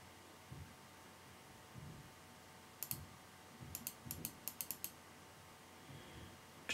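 Sharp computer mouse clicks while pressing Next in EaseUS Disk Copy during hard drive cloning: a lone click near three seconds, then a quick run of about seven clicks, close and fairly quiet over soft room noise.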